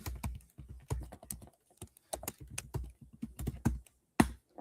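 Fingers type on a computer keyboard up close, producing irregular bursts of crisp clacking keystrokes separated by short pauses.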